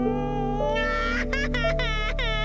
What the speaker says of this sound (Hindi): तभी उन्हें जंगल की तरफ से किसी बच्चे के रोने की आवाज सुनाई दी।